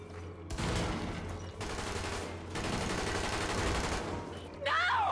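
Dense bursts of automatic gunfire from the video game Tom Clancy's The Division, loud and close, coming in long sustained volleys with brief gaps, ending with a whooshing effect.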